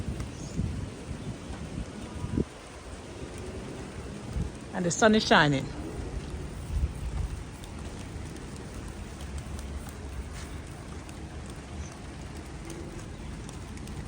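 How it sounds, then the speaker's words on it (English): Steady rain patters down on a home container vegetable garden while the sun shines, a continuous soft hiss throughout with a person talking over it partway through. "It's raining and the sun is shining."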